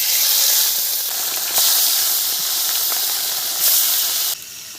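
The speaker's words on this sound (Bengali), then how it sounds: "মাছ ওদিকে ভাজা হচ্ছে" Rui fish pieces fry in hot mustard oil in a kadai, giving a loud, steady sizzling hiss that swells twice before dropping quieter near the end.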